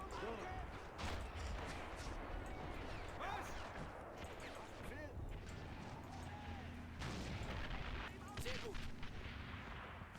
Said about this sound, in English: we're taking enemy artillery fire right now